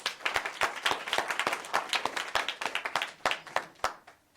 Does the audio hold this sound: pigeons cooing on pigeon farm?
no